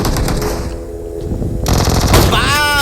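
Rapid gunfire rattles loudly in a PUBG Mobile match, a shotgun blasting in quick repeated bursts alongside other weapon fire, with a voice talking over the action.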